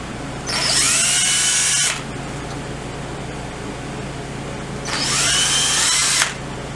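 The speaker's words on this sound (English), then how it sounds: "That drill needs sharpening." A power drill bores a hole in a part for a 1959 BSA C15T motorcycle, two loud steady whining bursts of a couple of seconds each separated by a quiet pause in a workshop.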